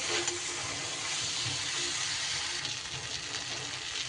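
Fried pointed gourd fritters and potato pieces tip into a pan of spiced masala whose oil has separated, setting off a steady, fairly loud sizzle that runs unbroken throughout, with no voice over it.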